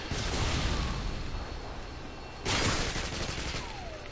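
Gunfire in the video game Modern Warfare 2 during a free-for-all match: dense automatic bursts, close and loud, easing off then erupting again in a second sharp volley.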